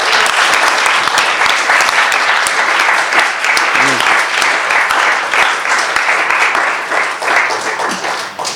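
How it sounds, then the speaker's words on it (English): Steady, dense audience applause at an interview event fills the room, loud and sustained with many hands clapping at once, tapering slightly toward the end. "are we having applause?"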